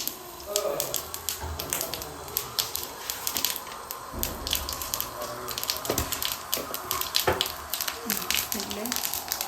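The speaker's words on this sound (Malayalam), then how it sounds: "പിന്നെ അതേ കടലക്കറിക്കുള്ള എണ്ണ താളിക്കുവാണേ" Oil for chickpea curry (kadala curry) is tempered in a pan, giving a steady crackling sizzle with scattered sharp pops and spits throughout.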